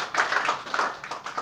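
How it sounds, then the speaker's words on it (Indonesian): Brief burst of audience applause, a dense patter of many hands clapping at moderate volume. "Boleh tepuk tangan Bapak Ibu."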